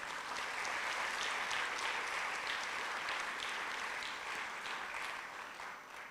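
A congregation gives loud, sustained applause, dense and even throughout, easing slightly near the end.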